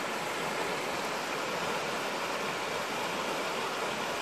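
A waterfall and stream rushing in the mountains of Gangwon-do, a steady, dense roar of white water that holds constant throughout with no voices.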